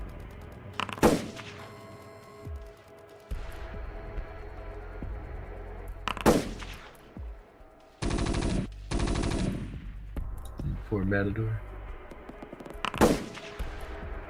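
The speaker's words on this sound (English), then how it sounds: "Bunch of gunfire rattles off from the Mavericks to the south." Gunfire sound effects played during a tabletop role-playing game: bursts of rattling automatic fire and single sharp shots, loud and close, recurring through the stretch, with brief talk between them.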